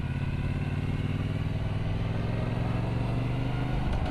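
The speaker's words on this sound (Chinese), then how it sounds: "换挡还是这种叮铃咣啷、叮铃咣啷，一拳一拳，拳拳到位的这种" Brixton Cromwell 1200 X motorcycle riding on a quiet, semi-enclosed road, its steady engine drone loud and continuous with faint mechanical clunks from gear changes mixed in.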